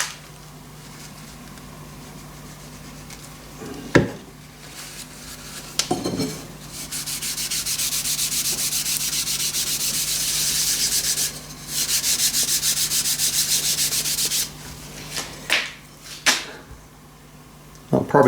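Carnauba wax and orange oil rubbed by hand onto the wooden handle of a cast brass machinist hammer, giving long steady cloth-on-wood scrubbing strokes broken by short pauses and a few knocks.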